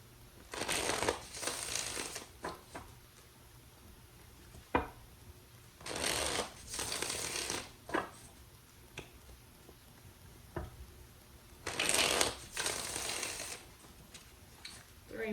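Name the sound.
shuffling tarot cards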